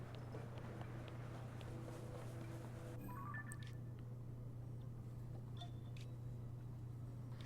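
Two short rising tonal notes in a row from the music of Zelda: Tears of the Kingdom ring out over a steady low electronic hum and soft game ambience, briefly and clearly, like a phone buzz.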